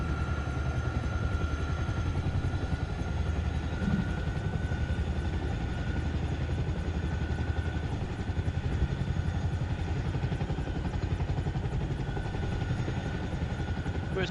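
A helicopter in the game Arma Reforger drones on continuously and loud, its rotor chop and engine whine steady throughout with no talk.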